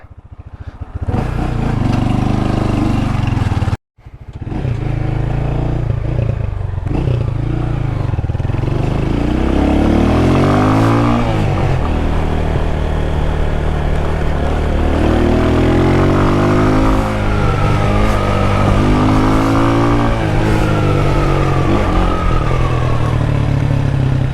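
A motorcycle rides along a storm-damaged Jamaican road after Hurricane Beryl, its engine loud and close throughout, revving up and down with repeated rising and falling pitch sweeps as it changes speed.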